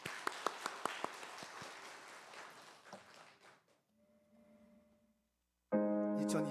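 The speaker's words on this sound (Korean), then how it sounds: "영상 박수 한번 하겠습니다." A church congregation applauds together in a burst of clapping that thins and fades out after about three seconds. A quiet stretch follows, then a loud sustained musical tone enters.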